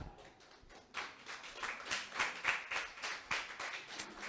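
Audience applause at a book launch event, a steady wash of many hands clapping that swells after a quiet start and holds at moderate loudness throughout, with no voices over it.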